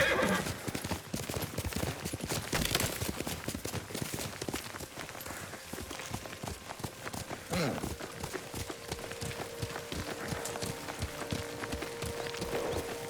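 Horse riding in the Ghost of Tsushima video game: steady clip-clop hoofbeats with an occasional whinny and neigh, fairly close, over a busy outdoor game soundscape with faint voices.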